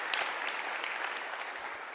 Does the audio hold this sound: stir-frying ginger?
no